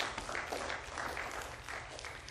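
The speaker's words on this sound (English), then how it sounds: "Let's give God a clap offering" A church congregation gives a clapping offering during a sermon: faint, distant, even applause from many people that blurs into a soft steady wash, with no voices above it.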